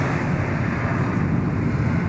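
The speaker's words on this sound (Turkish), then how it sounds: "Kesin İncirlik'ten kalkan uçaklar." Military jet aircraft taking off from Incirlik air base at night during the January 1991 Gulf War, a steady loud broadband roar with wind-like rumble filling the whole stretch, no voices.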